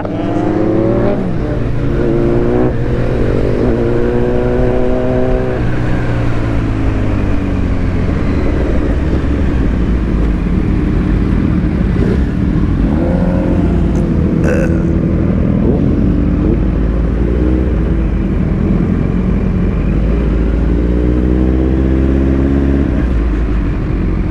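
A Yamaha R1 superbike engine revs at a wedding entry, its pitch repeatedly sweeping up and down in loud, rising bursts over a steady throaty rumble that carries for the whole stretch.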